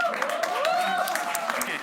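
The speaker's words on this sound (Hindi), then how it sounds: "एक बार जोरदार तालियों के साथ" An audience bursts into quick, dense applause, close and fairly loud, while a voice speaks over the clapping throughout.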